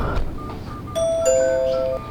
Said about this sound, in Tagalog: Doorbell na lang tayo.